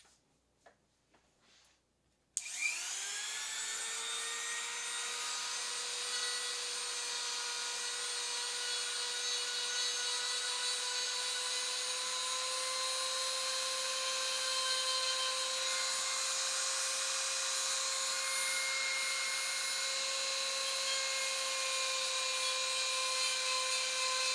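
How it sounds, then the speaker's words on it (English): After a brief quiet moment, small polishing stones start grinding with an abrupt, steady high-pitched whine that holds evenly for the rest of the stretch. "they're actually little polishing stones, but I should be able to use them to just like grind that out a tiny little bit"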